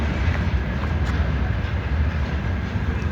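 A freight train hauled by a VL8 electric locomotive rumbles loudly and steadily as it brakes, with a faint squeal and no talking.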